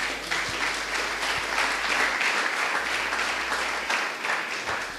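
A church congregation applauds steadily throughout, a dense wash of clapping from many hands filling the room without pause.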